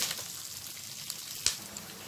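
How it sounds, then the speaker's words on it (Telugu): Curry leaves crackle in a pan of hot oil already holding cashews and chillies, a continuous close sizzle punctuated by a few sharp spits, with no talking. "ఇప్పుడు కరివేపాకు కూడా వేసేసుకుందాము."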